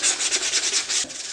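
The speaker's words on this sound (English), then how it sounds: "I'm extra cautious sanding the edges" Sandpaper rubs back and forth along the edges of plywood toolchest pullouts in quick, even strokes, close and loud with no talk.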